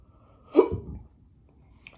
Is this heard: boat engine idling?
no